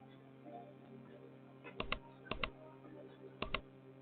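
Computer keyboard keys tapped on a Windows 11 PC in a few short, close bursts of crisp clicks over a faint steady background hum.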